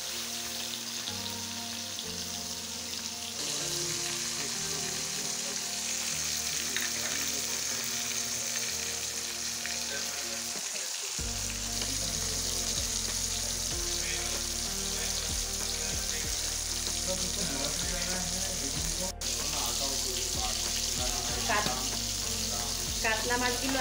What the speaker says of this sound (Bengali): কাতলা মাছগুলো আগে ভেজে নেব।